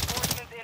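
Rapid bursts of gunfire in Warzone 2, a quick loud volley of shots that tails off within a fraction of a second, with a voice faintly present underneath.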